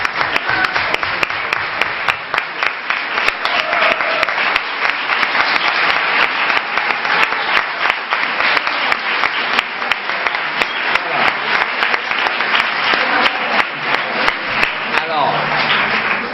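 At a healing and deliverance retreat, the congregation claps for the Lord in sustained, loud, close applause that keeps a steady, busy texture across the whole stretch, with voices woven underneath.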